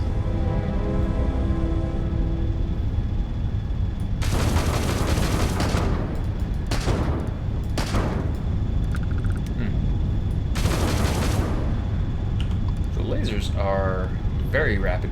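Ship weapons in Starfield firing in quick bursts, several sharp loud volleys spread across the stretch over a constant engine hum, with someone talking throughout.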